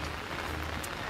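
Steady rain falling and pattering on surfaces outdoors, a dense even hiss close by, with no voices.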